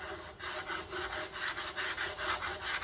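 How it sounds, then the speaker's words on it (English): Hand sanding of veneered mid-century end table tops, a steady rhythmic back-and-forth scratching of abrasive on wood, close and continuous with regular strokes about every quarter second. "Now this project had a lot of sanding, and I did it all by hand."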